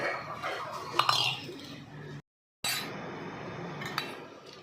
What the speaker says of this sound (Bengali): এবার এই শিলপাটাতে বেটে নিচ্ছি